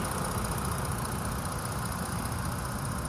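A 2013 Ford Taurus police interceptor with 69,000 miles, its engine idling: a steady, close, even rumble with a slight rhythmic throb, running alone with no talking.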